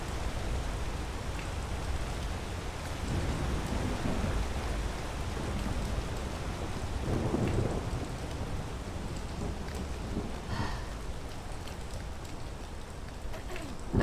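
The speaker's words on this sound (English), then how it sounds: "Is the storm letting up?" Steady broadband rainfall on surfaces during a video game thunderstorm, with a faint low rumble of distant thunder around the middle; even, continuous and fairly loud throughout.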